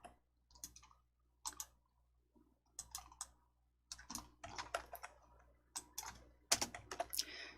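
A computer mouse in a Hangul word processor, giving faint, irregular clicks that come singly and in short rapid clusters across a quiet room.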